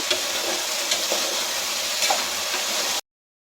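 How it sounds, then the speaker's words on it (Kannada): Chopped tomato and peas frying in a pan, a steady close sizzle with light stirring noises throughout, then a sudden cut to silence near the end. "ಒಂದು ದೊಡ್ಡ ಟೊಮೊಟೊ ಹೆಚ್ಚಿಟ್ಕೊಂಡಿದ್ದೆ ಅದನ್ನು ಹಾಕೊತಾ ಇದ್ದೀನಿ ಹಾಕ್ತೀವಿ ಫ್ರೈ ಮಾಡ್ಕೊಳ್ಳೋಣ"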